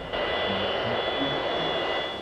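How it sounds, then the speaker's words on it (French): A cartoon airplane's engine drones steadily before takeoff, a constant broadband roar with a faint high whine that holds at an even level throughout, with no talking. "Et l'avion va décoller dans quelques secondes."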